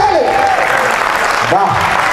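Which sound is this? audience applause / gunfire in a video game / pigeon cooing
audience applause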